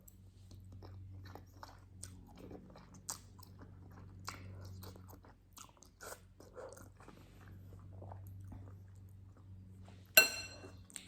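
Someone chewing spicy instant noodles with seaweed and spicy sauce, soft crunchy bites and mouth sounds repeating close to the mic over a steady low hum, with one louder sharp clatter near the end.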